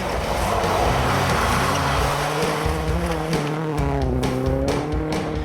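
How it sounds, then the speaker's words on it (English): A WRC rally car drifts on icy, snow-covered winter roads. Its engine roars loudly and close, with revs climbing and dropping in surges, and bursts of tyre and gravel noise come through as it slides. "Icy, snow-covered roads mean that drifting dramatically comes as standard."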